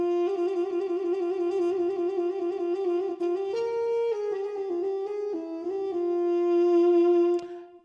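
A trumpet voice on a Roland Jupiter-80 synthesizer plays legato notes, a held tone trilling and stepping to neighboring pitches with natural trumpet-like slurs, clear and close without any talk.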